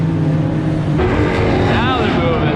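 Race cars circulate on the track at Homestead Miami Raceway, a dense, continuous engine roar with a pass sweeping by near the end, alongside a C8 Corvette session.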